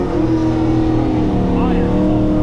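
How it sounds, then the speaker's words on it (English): Car fitted with an LSA supercharger doing a burnout at a track day, a loud sustained engine roar with steady harmonics and rising pitch close by. "Actually do a little burnout."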